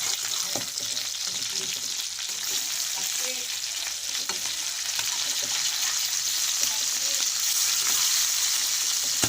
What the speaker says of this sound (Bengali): দেখুন বন্ধুরা আমার মাছ ভাজা হয়ে গেছে এবার আমি মাছগুলোকে তুলে নেব